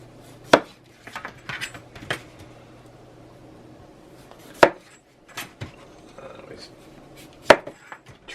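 A knife trims the ends off potatoes for home fries: a few loud, sharp chops onto a board, spaced a couple of seconds apart, with softer cutting taps between.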